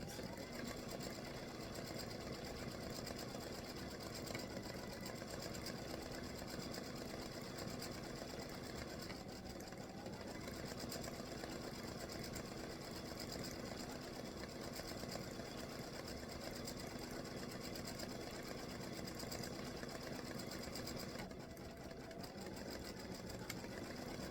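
Free-standing lace hibiscus design being stitched by an embroidery machine in a 4-inch hoop, a steady, fast mechanical whirring and needle chatter running continuously at moderate level without pause.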